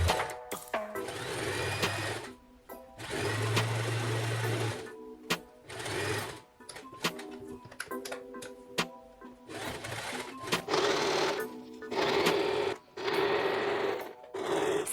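Sewing machine stitching fabric straps close to the raw edges, a loud, steady whirring run of needle strokes broken by brief pauses and restarts.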